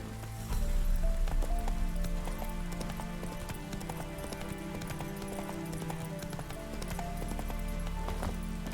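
Roach, Geralt's horse in The Witcher 3, galloping with steady rapid hoofbeats close by, a continuous clip-clop rhythm over faint ambient game music, with no talk.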